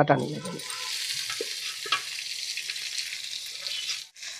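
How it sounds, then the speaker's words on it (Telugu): Tamarind pulp frying and being stirred in a pan for a brinjal and pea curry, with a steady close sizzle and a few scraping strokes of the spoon, no talk. "ఇదిగోండి చింతపండు గుజ్జు దీన్ని ఇలాగా చక్కగా వేగిపోవాలి దగ్గరగాను"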